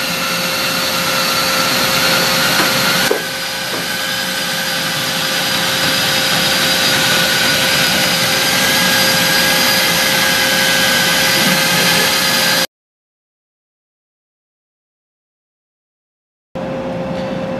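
A mixer agitates the B component of Petro Armor coating to lift settled solids and pigment, giving a steady, loud motorized whirring drone for about twelve seconds before cutting off, then briefly resuming.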